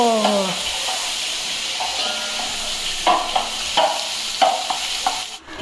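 Yogurt being stirred into chicken masala in a hot pan, with a steady sizzle and hiss and several scraping stirs of the spoon across the pan, close and alone.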